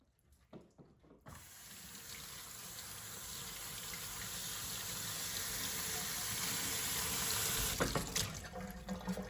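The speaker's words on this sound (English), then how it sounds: "Dunk it to rinse it, get all the product off of it." Running water from a sink tap fills steadily as an item is dunked to rinse off cleaning product after ultrasonic cleaning: a few clunks, then a continuous close gushing that builds, ending in splashes and knocks.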